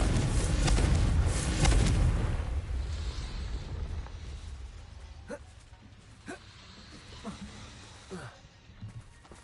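Confringo blasting-spell explosions in the Hogwarts Legacy video game: a loud, rumbling blast fills the first two seconds, then fades into a series of smaller, sharp cracks spaced apart, with a voice speaking now and then.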